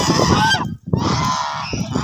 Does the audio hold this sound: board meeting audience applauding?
no